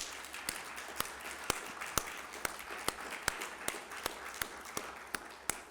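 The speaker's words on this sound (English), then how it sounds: "Please give us, again, all of us, a wonderful round of applause." Audience applause at a university faculty research excellence celebration: a soft, thin round of clapping from a smallish crowd, with sharp, evenly spaced single claps standing out above the rest.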